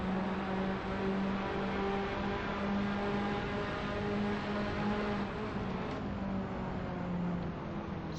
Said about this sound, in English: We can now hear Division's motor behind Zippin'.